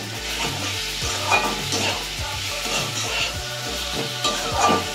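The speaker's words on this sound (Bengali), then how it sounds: "দিয়ে আমরা ভালো করে মশলার সাথে এই সবজিগুলোকে কষিয়ে নেব।" Vegetables are sautéed in a pan with spices, tomato and chilli, likely papaya and potato for a katla fish curry. A loud, continuous sizzle runs under repeated rhythmic spatula scrapes and stirring.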